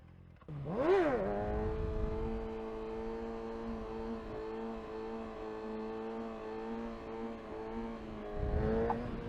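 Kawasaki ZX6R motorcycle revving during wheelie practice: a sharp throttle blip rises into a sustained high-pitched engine howl held steady for several seconds, ending with another rev, close and loud.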